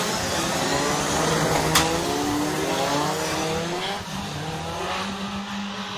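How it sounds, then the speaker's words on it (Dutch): 2-litre hotrod race cars thunder around a circuit during a final in a continuous, loud roar of engines, one seemingly running rough, with a brief sharp squeal near the start. "Problemen voor Lauper zo te zien, die toch weer een zwaar lopende motor heeft, zo lijkt het."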